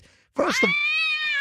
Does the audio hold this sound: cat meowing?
yes